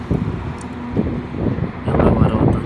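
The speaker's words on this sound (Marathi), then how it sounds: "म्हणजे मोबाईल पण हातातून उडते एवढा वारा आहे" Strong wind at Tiger Point buffets the microphone in loud, uneven gusts that swell toward the end.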